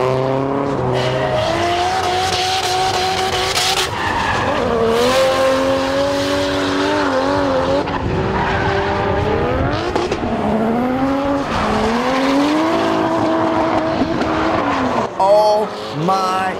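Toyota Chaser X100 making a drift run at a JDM drift day, with a loud revving engine that climbs and drops through shifts and long tire squeals throughout, close and continuous.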